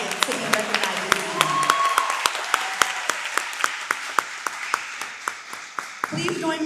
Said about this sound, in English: let us give a round of applause to all of our hardworking and dedicated students